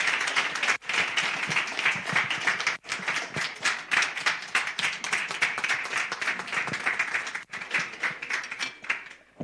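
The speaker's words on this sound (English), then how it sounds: "Big round of applause for the Minister." A crowd at a Nelson Mandela Day commemoration gives the Minister a big round of applause, sustained dense clapping with brief dips and surges throughout.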